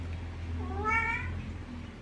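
A single drawn-out meow from a house cat, clear and fairly close over a low steady hum in an indoor room.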